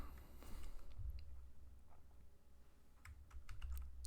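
Rapid typing on a computer keyboard, a close run of light clicks and taps that thins out briefly mid-stretch before picking up again, with no voices.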